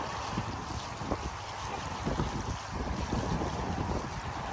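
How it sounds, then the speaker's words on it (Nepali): Cold wind blows outdoors in Toronto, rumbling and buffeting against the microphone with gusty low thumps over a constant airy roar. "आकाश एकदम क्लियर छ, चिसो हावा चलिरहेको छ"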